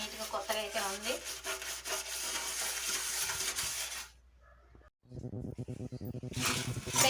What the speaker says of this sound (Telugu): కొద్దిగా తీసుకుని అయితే మళ్ళీ ఒకసారి రుద్దుతున్నాను.